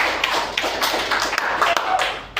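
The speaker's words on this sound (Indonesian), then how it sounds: "kita kasih aplaus dulu untuk Teguh dan Ilham" Students applauding in a classroom for two classmates, a steady patter of many hands clapping at moderate loudness with some louder individual claps and taps.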